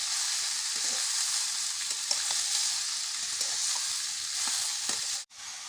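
Ash gourd and grated coconut frying in a pan, a steady close sizzle with faint scrapes of stirring throughout, cutting out abruptly just before the end.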